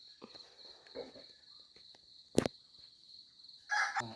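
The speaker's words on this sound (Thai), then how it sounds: "เจ้าทองนาคก็ขันนะคะทุกคน" A rooster crows at dawn during early-morning rubber tapping, a short bright call rising over a steady insect drone, with scattered faint noises and a brief sharp crack in between.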